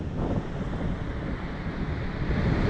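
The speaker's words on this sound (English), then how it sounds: "The wind seems to have died off ever so slightly" Wind on a hidden beach rushes in a steady, low roar against the microphone, with surf-like buffeting and no pauses.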